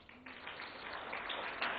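Audience applause fills a hall during a Haryana government book launch ceremony, a steady, dense clatter of many hands that holds for nearly two seconds and swells slightly near the end.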